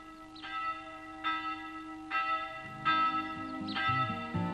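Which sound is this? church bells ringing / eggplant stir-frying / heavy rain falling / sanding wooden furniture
church bells ringing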